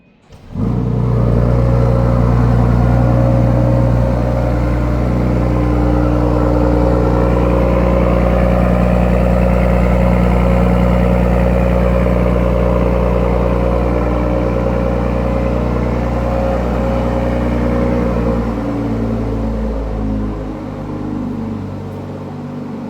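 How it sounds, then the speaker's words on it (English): A 2026 BMW X6 xDrive40i with its B58 engine fires up and settles into a loud, close idle with a deep, steady grumble and droning hum, easing slightly toward the end. "You can really hear that grumble there from the B58."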